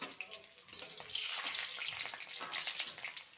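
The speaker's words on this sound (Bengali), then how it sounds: "এখন রসুনটা অল্প ভাজবো।" Garlic frying briefly in hot oil with black cumin and dried chilli for a leafy greens dish, a moderate close sizzle with some crackle and hiss, no spoken words.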